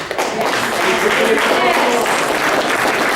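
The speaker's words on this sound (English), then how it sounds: "thanks for the applause" Audience at an industry panel on cannabis growing and dispensing breaks into sustained, evenly dense clapping that holds steady for several seconds.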